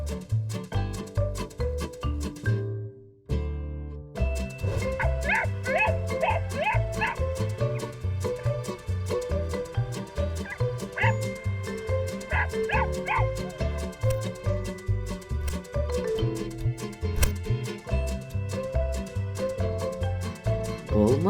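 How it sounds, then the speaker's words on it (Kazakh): Cartoon dog barking and yipping in a children's animated animal-sounds segment, repeated short barks and whimpers over loud, continuous background music. "Ит гав дейді."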